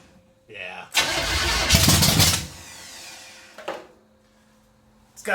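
A 454 engine stored for 20 years cranks hard in a loud burst of about a second and a half, then drops to a low hum without catching. Voices talk in the background.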